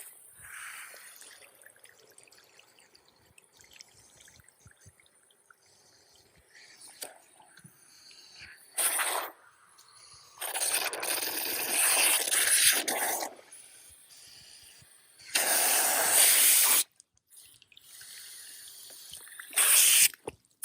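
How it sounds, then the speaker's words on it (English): A garden hose sprays water over an ice tie-dye project in bursts: quiet dripping and trickling between several loud, hissing sprays of a second or two each, with no talking. "now I'm going to get the hose."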